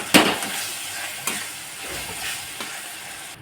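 Manchurian balls with tomato sauce sautéed in a pan in a home kitchen: close, steady sizzling and frying, with scraping stirring strokes at a few points and no talking.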